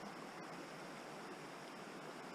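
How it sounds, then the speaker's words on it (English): A river flows through an ancient rainforest, a steady, faint rushing wash of water heard from a distance with no voices. "You can always kind of hear the river wherever you are."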